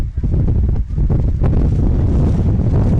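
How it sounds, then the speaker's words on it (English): A strong gust of wind sweeps across an outdoor soccer match on a turf field, roaring and buffeting the microphone with a loud, steady low rumble. "That's our strongest gust of the day."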